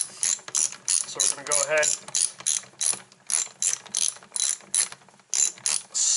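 A ratchet wrench tightens the retaining bolts on the motor of a Warn VR8 winch, giving a steady run of rapid metallic clicking strokes in repeated bursts, close up, while someone speaks briefly.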